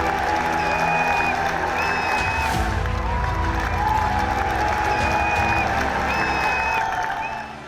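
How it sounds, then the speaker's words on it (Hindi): Dense crowd applause with cheering at an election rally held in an open ground with thousands gathered, a steady wash of clapping and whistles lasting throughout at close, loud level. "कहीं मैदान में हजारों की भीड़ के बीच रैली कर ताकत दिखाई जा रही है।"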